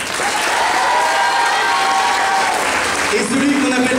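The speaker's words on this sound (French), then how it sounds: "je vais demander d'applaudir Fabo." Audience at a Japan culture festival film screening breaks into sustained applause for a sound crew member, steady dense clapping filling the hall with some crowd murmur and voices beneath.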